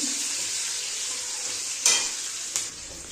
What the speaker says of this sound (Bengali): এবার দেবো চিড়ে রাখা কটা কাঁচা লঙ্কা আর দেবো পেঁয়াজ কুচি এগুলোকে একটু নাড়াচাড়া করে নিচ্ছি